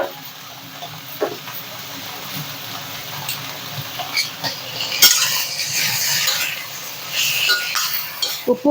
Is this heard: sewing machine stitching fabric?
no